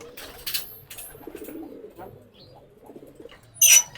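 Racing pigeons coo softly in low, throaty murmurs, with a few sharp rustles and a brief louder flutter toward the end.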